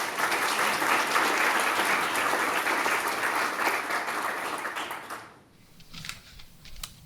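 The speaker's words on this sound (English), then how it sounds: "A big round of applause for Lynette" Sustained applause from a presentation audience welcoming a climate-science speaker, dense and steady for about five seconds before thinning to a few scattered claps.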